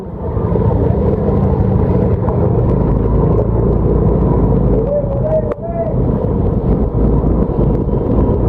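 A car passes along a flooded street in Banyuwangi during heavy rain, a steady low engine and tyre rumble over constant wet roar and wind buffeting, loud and close throughout.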